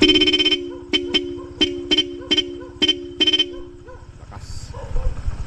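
Bosch Europa horn fitted to a Honda ADV160 motorcycle sounds loud and close: one long blast, then a run of about seven short, sharp honks in an uneven rhythm, followed by quieter background noise.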